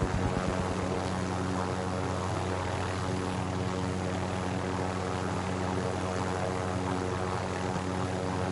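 Helicopter in Call of Duty Warzone: a steady, loud rotor and engine drone with strong low harmonic bands, continuous and close throughout with no talk.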